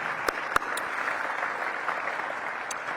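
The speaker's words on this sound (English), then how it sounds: "So please give everyone a round of applause for all of your commitment and what you do for this partnership" Audience applause at a Washington DC economic partnership annual meeting, a soft, steady wash of clapping heard from a distance, with a few sharper claps standing out near the start.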